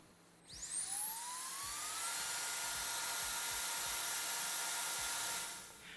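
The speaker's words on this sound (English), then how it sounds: "I do the same with my blower" A brushless turbo air blower spins up to full power, its whine rising quickly in pitch into a loud, steady high-pitched roar that holds for several seconds before beginning to wind down at the end.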